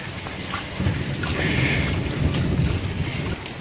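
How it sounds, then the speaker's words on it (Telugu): Steady rain pours down in a village, a dense continuous hiss of drops with a low rumbling wash underneath, loud and close throughout with no voices. "మొత్తం వర్షం దిగిపోయింది. చూసారా వర్షం?"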